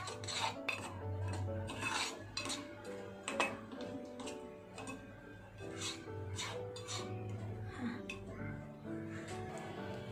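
Dough being mixed with salt in a bowl, with rhythmic rubbing and scraping strokes repeating close by while a voice talks over them.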